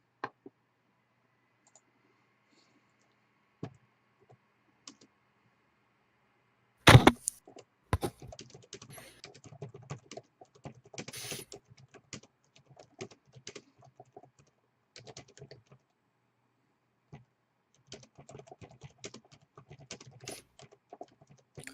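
Someone types on a computer keyboard, sparse isolated clicks at first, then a sharp loud clack followed by a busy run of close keystrokes with brief pauses.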